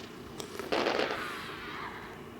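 A gunshot in the video game Crimson Snow, a single burst with a short tail amid faint background noise.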